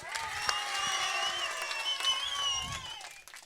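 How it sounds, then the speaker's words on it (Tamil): Women in an audience clapping for a comedy speaker on stage, a sustained burst of applause with some cheering, steady and fairly close throughout. "பெண்கள் எனக்காக கைத்தட்டாங்கக்கா"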